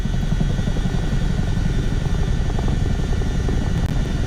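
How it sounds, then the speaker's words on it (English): A Chinook helicopter flying in a video game, a steady loud rotor drone with a low rumbling throb, constant throughout and heard alone without talk. "this helicopter just drops right where it wants to go."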